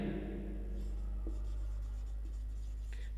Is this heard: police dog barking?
no